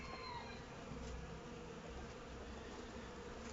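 Honeybees buzz during a first post-winter hive inspection, a low steady drone from the open colony with a few brief louder passes near the start, and no voices.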